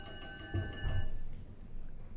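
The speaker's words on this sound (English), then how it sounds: "Just wait a moment for the bell to stop ringing." A bell rings in a parliamentary committee room, a steady sustained tone that cuts off after about a second and leaves quiet room murmur.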